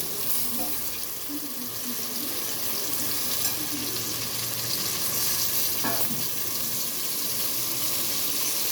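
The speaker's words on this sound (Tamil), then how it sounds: "நம்ம கழுவி வச்ச இறாலை போட்டுக்கலாம்." Washed prawns fry in a hot pan with a steady, dense sizzle that runs throughout at moderate volume, accompanied by occasional soft stirring clinks.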